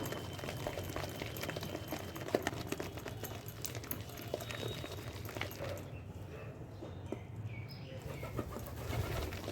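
Pigeons coo near a spot where batter for lentil badi is being beaten by hand, a soft low murmuring coo persisting under steady background noise.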